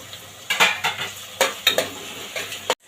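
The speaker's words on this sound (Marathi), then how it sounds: "आता आपण त्यात हे मिरच्यांचे तुकडे घालूया आणि ते परतून घेऊया दोन मिनिटासाठी" Chili pieces tossed with onions in a hot pan, a series of sharp scraping stirs and clinks of a spatula against the metal over a low steady sizzle, close and distinct with no voices.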